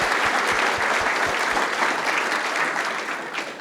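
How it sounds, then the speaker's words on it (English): Sustained applause from a conference audience, dense and loud with many hands clapping together, holding steady before easing slightly toward the end; no clear speech over it. "can we applaud"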